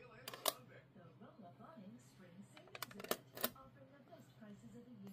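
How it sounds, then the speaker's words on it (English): A sewing needle pokes through aluminium foil with a few sharp, faint clicks and crinkles at close range, spaced out over quiet handling noise with no voices. "Okay, then let's poke the foil."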